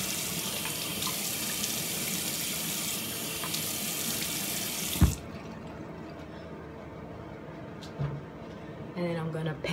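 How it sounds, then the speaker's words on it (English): Warm water runs loudly and steadily from a bathroom tap into a sink for a face rinse, then cuts off abruptly about halfway through. A few drips and small clatters follow in the quieter stretch. "let me just do one more rinse with some warm water"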